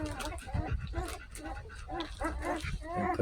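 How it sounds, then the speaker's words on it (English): A one-week-old puppy whimpers and yips in short, repeated cries close by, with soft rustling from the litter and no clear talk. "And Puppy's just like, let me in, let me in, let me in."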